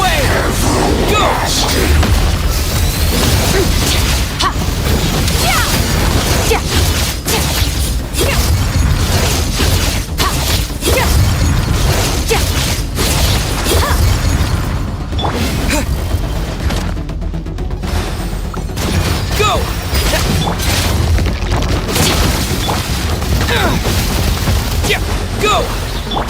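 Genshin Impact bomb explosions in a Crystallina story quest, a dense, continuous wash of booms, bursts and whooshes packed closely together at steady loudness, with game sounds layered over a constant low rumble.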